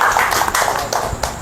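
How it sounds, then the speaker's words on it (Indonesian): Brisk applause for SEA Games gold medalist Dina Aulia, rapid overlapping claps from a small gathering, close and fairly loud, lasting only a moment with no talk over it. "boleh tepuk tangan sekali lagi dong."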